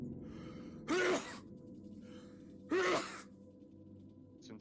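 A single sharp sneeze bursts out twice in a quiet room during a tabletop role-playing session, two loud breathy blasts about two seconds apart, with faint background hum between them.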